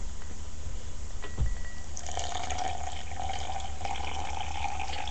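Plain drinking water poured from a jug, starting as a soft trickle and then becoming a steady splashing gush close to the microphone, continuous for several seconds over a low background hum, with no talking.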